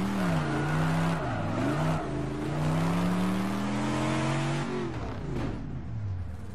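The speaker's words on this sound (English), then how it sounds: "Wow, this car sounds great." The V8 engine of an AC 427 Shelby Cobra in the rFactor 2 racing game roars loudly, its pitch climbing and dropping through several gear changes as it revs and accelerates, with a synthetic game-like tone.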